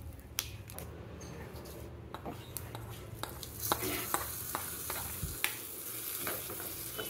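Food sizzles and fries in a heavy pan while being stirred, with steady crackling and frequent sharp scraping clicks of the utensil against the pan, close and continuous.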